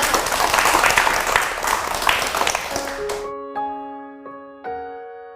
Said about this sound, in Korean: 박수 안 치세요?